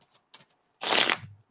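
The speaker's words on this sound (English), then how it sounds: "Just getting a good shuffle and picking up on energy." Tarot cards are shuffled by hand in a quick burst of dense riffling, preceded by a few soft card taps and handling sounds, close and fairly quiet, with no talking.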